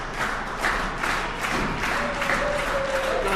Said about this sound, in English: Got a very excited crowd here tonight.